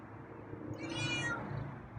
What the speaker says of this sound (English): Let's hear a few more meows,